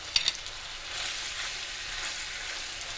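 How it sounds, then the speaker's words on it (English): Seared steak and its juices drop back into a simmering sauce in a pan, a steady close sizzle with a few sharp spatters at the start and no voices. "We add back our steak and all the juices that are in there."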